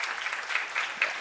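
Conference audience applauding at an award thank-you, a steady dense patter of many hands clapping at moderate distance, brief and continuous with no pauses.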